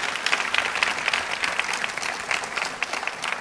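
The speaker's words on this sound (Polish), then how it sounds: "Brawa dla pana prezydenta." Steady, dense clapping from an audience at an award ceremony honouring the president, filling the whole stretch at an even level with no voices on top.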